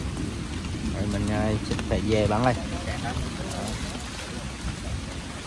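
Heavy rain pours steadily in a hillside forest in Dong Nai in the late afternoon, a dense constant hiss with someone speaking Vietnamese over it.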